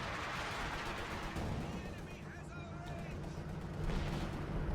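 105mm howitzer barrage in Company of Heroes 2 as a dense, rumbling wash of distant artillery fire and gunfire, continuous and loud, with a heavier swell near the end.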